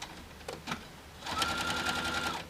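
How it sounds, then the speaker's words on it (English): A sewing machine stitches fabric binding, opening with a few soft clicks before a close, steady run of rapid mechanical stitching. "And start sewing."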